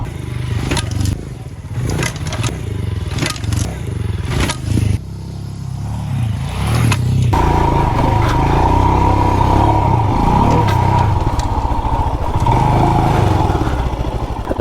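A Royal Enfield Himalayan motorcycle is ridden off-road. Its engine drones loudly and steadily, with clatter and scraping over rough ground early on, then a sustained, even roar.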